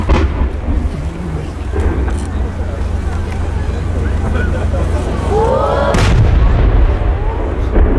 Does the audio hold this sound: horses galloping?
no